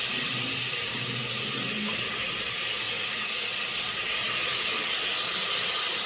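Ginger garlic paste sautéing in a pan for biryani, a steady broadband hiss and sizzle with no break and no talk.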